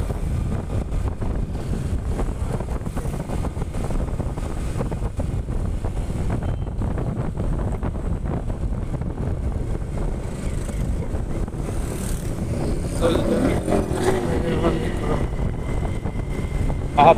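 Steady, loud wind rush and road roar fill the ride as a motorcycle travels along a road, continuous with no breaks.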